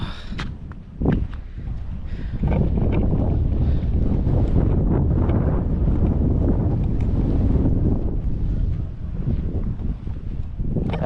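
A canoe glides across a lake reservoir in the afternoon, with strong wind buffeting the microphone and faint water and paddle sounds underneath, loud and continuous for the whole stretch.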